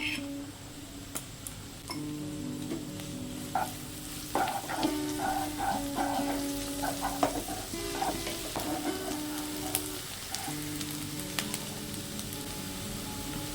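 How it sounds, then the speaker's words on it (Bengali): Crushed garlic frying in a pan for a dhaba-style egg tadka, a steady close sizzle broken by repeated clinks and scrapes of stirring, with no voices. "এক মিনিট মতো ভেজে নিয়েছি এখন দিয়ে দেব থেতো করা রসুন"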